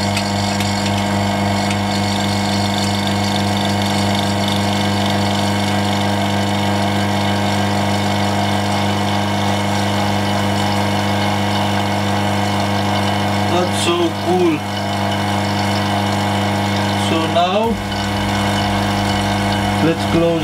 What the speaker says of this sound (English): Let's close the pump.